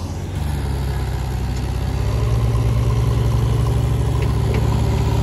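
A Mahindra 575 tractor engine runs steadily on a rough dirt track, a loud, continuous low diesel rumble that holds without a break and rises slightly partway through.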